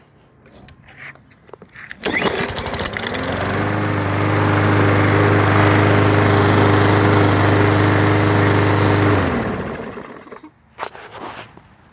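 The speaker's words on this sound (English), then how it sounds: "Here's the lawnmower. Let's see if it'll start." A lawn mower's Briggs & Stratton engine cranks, catches and runs with a steady loud drone for several seconds, then winds down to quiet with a few clunks.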